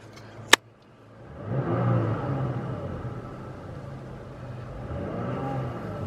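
Inside the cab of a 2020 Toyota Tacoma with a Black Widow Venom 2.5 muffler, a brief sharp click followed by a low engine and exhaust rumble that swells as the truck accelerates, then settles into a steady drone.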